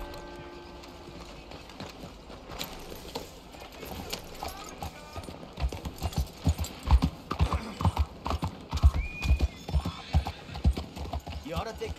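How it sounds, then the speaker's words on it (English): Horse hooves clip-clop steadily in Red Dead Redemption 2, growing louder and busier over the stretch, with a whinny and town ambience, while in-game voices talk. "You ought to take care of that horse there. Real fine beast."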